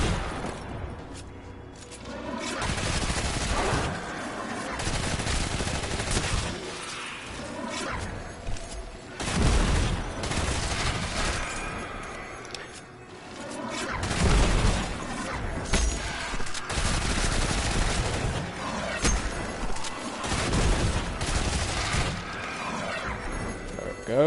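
Weapon fire in Destiny 2 rings out in dense bursts, with booming impacts and whooshing projectiles mixed into loud layered game effects that run steadily across the stretch, with no talk.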